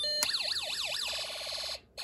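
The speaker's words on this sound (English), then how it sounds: "You have a European siren," A Snap Circuits electronic alarm kit producing a European-style siren, a loud electronic tone warbling rapidly up and down, then shifting to faster pulsed beeps before a brief cut-off, with no voices.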